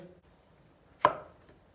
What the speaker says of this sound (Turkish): Mantarı da doğradık.